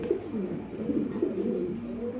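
Fancy pigeons kept for sale coo steadily at close range, a continuous overlapping run of low throaty coos from several birds.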